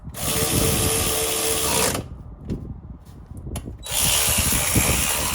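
A power tool drives bolts into a Trans Am rear end, loud whirring bursts of about two seconds at the start and end, with quieter clinks and handling noise between them.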